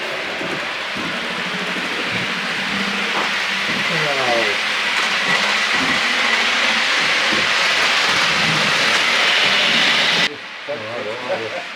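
A model train runs on a layout, making a continuous close hissing rumble of small wheels on track, while people talk over it; the sound cuts off abruptly near the end.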